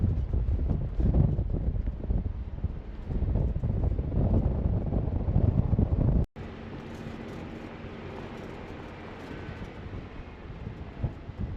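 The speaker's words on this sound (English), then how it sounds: "It is extremely windy." Strong, steady wind roars across the microphone at Engineer Pass, a high mountain pass at 12,800 feet, with loud gusty buffeting that drops briefly and then continues as a lower, constant rush.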